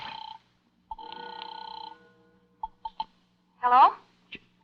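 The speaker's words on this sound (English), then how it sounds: "It's ringing now." A telephone ringing in a radio drama: a few bright ring bursts, then quieter isolated clicks and a short vocal sound, close and clear against near silence.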